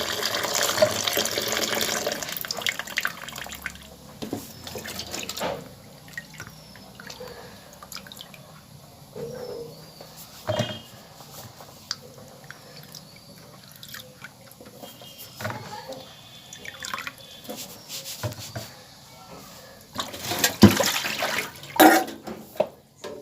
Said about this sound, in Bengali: এখন ধোয়া হয়ে গেছে পটলগুলোকে